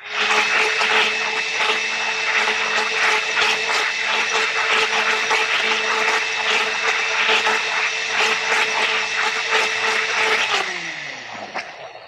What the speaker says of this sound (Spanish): te voy a poner el resto en la licuadora porque aquí queda todavía medio fresco